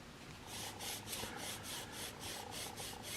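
A single-bevel broadhead being sharpened on a 1200 grit stone, heard as quiet rhythmic back-and-forth scraping strokes at a steady pace, close and soft, with no talking.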